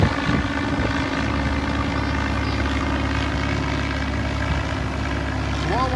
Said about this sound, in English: there's a plane dragging the sign around it from there or something